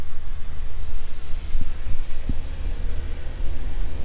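A 1999 Case 1840 skid steer loader idles steadily at close range, a low, continuous engine rumble with a couple of faint knocks and no talking over it.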